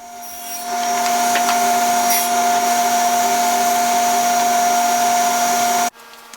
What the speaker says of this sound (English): go ahead and clean out the rest of the tenon with the dado stack